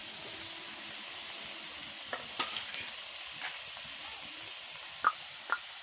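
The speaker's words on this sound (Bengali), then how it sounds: "তো আমি দিয়ে দিয়েছি তেল আর পেঁয়াজ" Onions frying in oil in a pan give off a steady, even sizzling hiss throughout, with a few faint clicks and taps of a utensil near the end.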